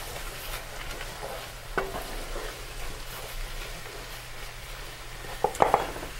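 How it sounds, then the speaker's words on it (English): Beans being refried and stirred in a pan for chili, with a low steady sizzle, soft spoon scrapes and a few sharp metallic clinks near the end; no talking. "I start off with refrying my beans first, just like that. I mix them in."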